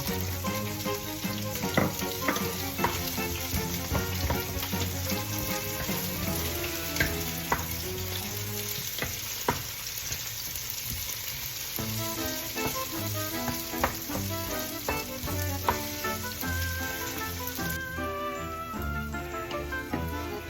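Onions frying in a pan for beef caldereta make a continuous sizzle with frequent scraping and stirring clatter, joined by a tonal hum from nearby appliances or music.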